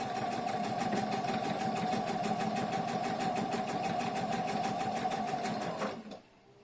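A sewing machine runs a steady, fast stitch along a quarter-inch seam on a shoulder bag, right sides together, close and continuous for about six seconds before stopping abruptly.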